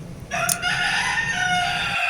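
Chickens kept in cages abroad, with a rooster crowing loudly and close by in a long sustained call over steady clucking and coop noise.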